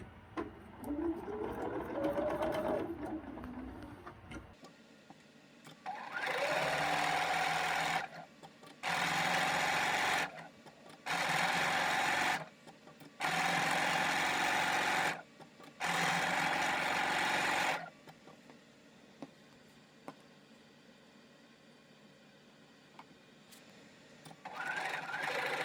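A sewing machine top stitches plain fabric along the selvage in five loud, even bursts of a few seconds each, separated by short pauses, with a quieter stretch before and after.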